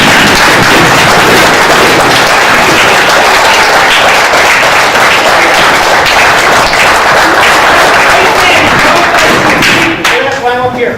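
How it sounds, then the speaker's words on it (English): Audience at a speech rises for a standing ovation, dense sustained applause with cheering voices, loud and continuous, thinning out near the end. "I want you to give it a standing ovation."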